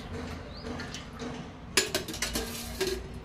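Metal clinks and scrapes from a traditional copper cooking pot being handled in a home kitchen, a few sharp knocks and clatters in the second half over low background noise.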